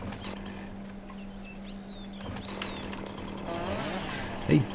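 Chainsaw cutting tree stumps in a farming video game, a steady buzzing drone with scattered bird calls and other game sounds, and a short louder burst near the end.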